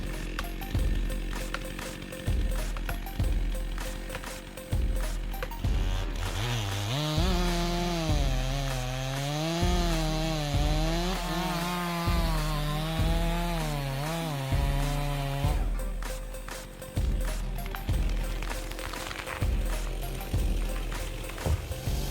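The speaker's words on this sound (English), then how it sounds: "The portability of chainsaws makes them able to operate anytime, anywhere, creating favorable conditions for logging during such snowy times." A chainsaw cuts through large, soft palm tree wood during snowy logging work, the engine rising into a loud, steady, wavering whine through the cut, with lower idling bursts and knocks before and after.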